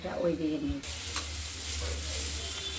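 Chopped cauliflower with green peas sizzles steadily in a pan, a continuous frying hiss with a stir and a scrape, following a brief bit of speech at the start.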